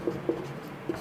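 Chalk or marker writing on a board during a maths lesson on fractions makes three short scratchy strokes, close and fairly faint, with no voice over them.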